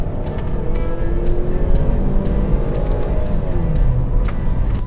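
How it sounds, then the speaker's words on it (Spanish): A 2017 Ford Escape SUV engine revs hard to high RPM, a loud, sustained roar that rises and holds close up, with no voices over it. "el sonido que produce la Escape al momento de acelerar y llevarla a altas revoluciones"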